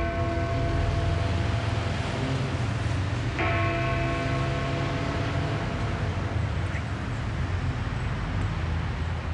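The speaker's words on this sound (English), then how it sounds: "We've got the Big Ben chiming, haven't we?" The Big Ben bell strikes once partway through, a resonant, ringing tone that sustains and decays over a steady loud background hum, with no voices.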